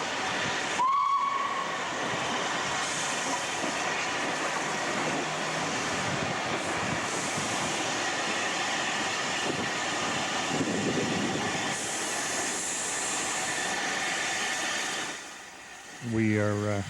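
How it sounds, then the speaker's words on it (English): Steam locomotive pulling into Aidensfield station, heard from an overpass bridge: a high steam whistle sounds early, then steady hissing and rolling train noise fills the scene before fading, with a voice speaking over it. "looking down on this train as she pulls in."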